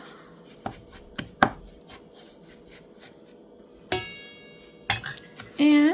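Cinnamon and sugar are mixed in a bowl, heard as scattered scraping strokes and sharp clinks of a utensil against the dish, close and intermittent with quiet gaps.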